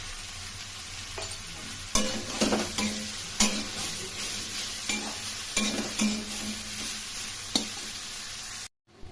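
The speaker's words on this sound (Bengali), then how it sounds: "একটু ভাজা ভাজা করে নিচ্ছি।" Broccoli curry seasoned with salt and turmeric fries in a pan, with a steady close sizzle broken by several distinct scraping stir strokes, no voices, ending in a brief silence.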